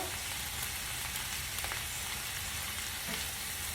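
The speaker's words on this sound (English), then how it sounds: "as it cooks down on the high heat and wilts down" Cabbage stir-frying over high heat for a beef and shrimp stir fry, giving a steady, close, continuous sizzle with faint stirring scrapes and no talking.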